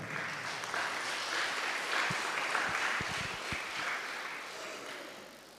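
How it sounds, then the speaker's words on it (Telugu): A church congregation claps loudly together during a sermon, a dense, steady wash of applause lasting several seconds before it slowly tapers off. "1000 తరాలు కావాలనుకున్న వాళ్ళందరూ గట్టిగా చప్పట్లు కొడతారా?"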